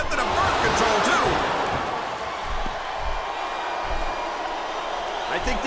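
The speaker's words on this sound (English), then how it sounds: "I think these superstars are getting some feedback from the crowd" A WWE arena crowd at Unforgiven 2006, during Jeff Hardy vs. Johnny Nitro, roars and cheers in a steady, dense wash throughout, with commentators talking over the noise.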